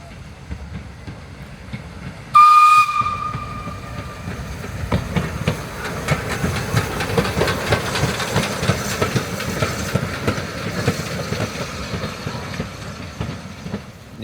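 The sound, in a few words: steam locomotive No. 3 running trackside, Don River Railway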